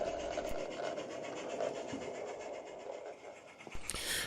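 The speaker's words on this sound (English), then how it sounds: "A little further down the line, and we spot the late afternoon up passenger returning." A light railway passenger train running past on a narrow-gauge line in the late afternoon, giving a steady, moderately loud rolling rumble with faint wheel and rail clatter that swells slightly near the end.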